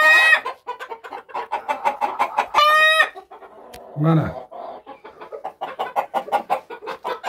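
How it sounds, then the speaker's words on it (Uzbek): Spanish white-faced hens cluck rapidly and repeatedly at close range, broken by a short loud squawk and a brief low call, while a person speaks a word partway through. "Tovuq, belalitsalarimiz tovuq makiyon."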